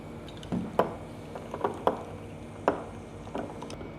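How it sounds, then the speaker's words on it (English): Soda water poured into a soju highball with lemon juice, a few soft splashes and light clinks of glass spread over a few seconds, close and fairly quiet. "And some soda water."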